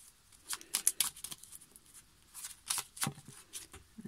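Worn oracle cards are handled and shuffled, giving soft, quick rustles and flicking snaps in short irregular bursts. Close and quiet, with no talking.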